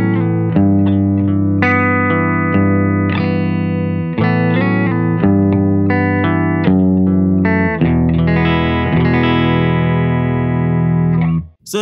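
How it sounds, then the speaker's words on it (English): Electric guitar chords strummed through an amplifier, loud and sustained with a processed, effected tone, ringing continuously before cutting off at the end. "So I have a Sipe Guitars OH20 here, and I'm running into a Silk Tone amp."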